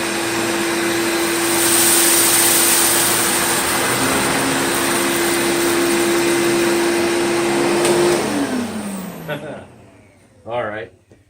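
A Riccar 8850 upright vacuum cleaner runs on carpet with a loud, steady whine and roar, then powers down in a falling pitch. A voice speaks briefly after it stops.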